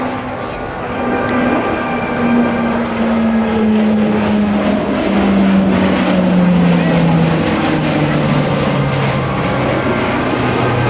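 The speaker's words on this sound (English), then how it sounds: "to demonstrate the Navy's most important and capable carrier aircraft. Let's hear it for the Hawkeye" A Navy E-2 Hawkeye carrier turboprop passes at an airshow at NAS Oceana, its loud, steady propeller drone sliding lower in pitch as it goes by, with crowd or announcer noise faintly beneath.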